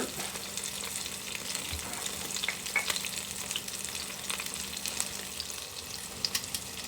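Onion rings frying in hot oil give a steady, dense sizzle throughout, with a few sharper clicks and pops as tongs turn them over; no one speaks.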